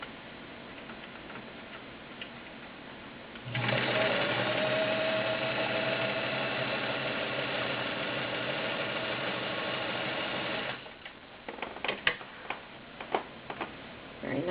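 A Kenmore Model 65 heavy-duty 1.2-amp sewing machine stitching at steady speed for about seven seconds, a close, rapid mechanical whir and ticking, followed by quieter clicks as it stops.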